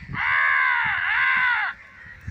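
Crows cawing by a river ghat, called in by a boy, a loud sustained harsh caw stretching over more than a second with faint background chatter.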